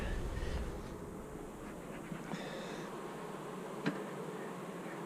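Honeybees hum steadily in an opened hive brood chamber during a summer mite check, a faint continuous buzzing drone with occasional small clicks and knocks of handling.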